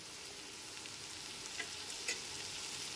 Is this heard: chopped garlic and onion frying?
yes